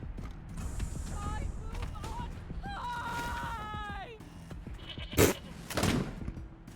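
A goat bleats in a video game, a string of wavering cries in the middle of the stretch, with low rumbling game sounds underneath and a couple of sharp knocks afterward.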